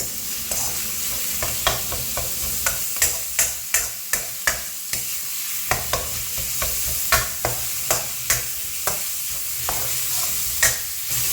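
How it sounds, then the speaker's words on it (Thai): Minced pork and garlic stir-fry in a hot pan for a bean sprout dish, with a steady sizzle punctuated by regular, close scraping clacks of a spatula against the pan. "ทีนี้ก็ผัดคลุกเขาให้เข้ากัน"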